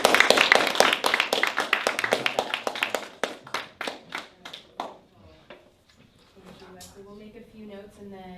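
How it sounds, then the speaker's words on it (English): Applause at a student senior projects presentation day, a small audience clapping briskly and fairly close, thinning into a few scattered claps before a voice begins talking at the end. "let's give them a round of applause first"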